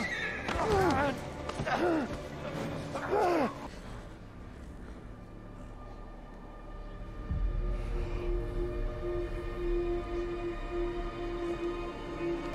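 A horse whinnies three times in quick, shrill bursts near the start, followed by a low, steady rumbling background with a faint thud.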